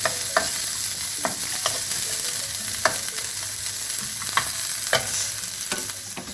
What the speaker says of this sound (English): So stir it for another minute so the garlic color changes.